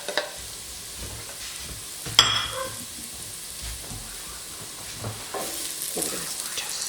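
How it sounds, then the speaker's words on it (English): A tomato rice base with bay leaves fries in a pot, a steady close sizzle and hiss with occasional stirring scrapes and a sharp clatter partway through, with no talking. "I'm going to put the bay leaf in and then add the tomatoes"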